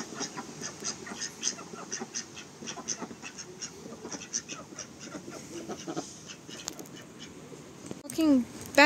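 Ducks quack repeatedly at the edge of a small garden pond, a busy irregular chorus close by, with people talking quietly underneath.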